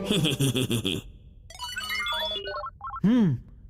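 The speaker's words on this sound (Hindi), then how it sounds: "हेलो हेलो, मैं 21st सेंचुरी बोल रहा हूँ। तुम्हें कभी मेरे पास भी आना चाहिए।" A phone ringtone plays in a cartoon scene: a stretch of rapid repeated tones, then a short melodic jingle of bright notes, ending with a sweeping electronic chirp, all loud and close.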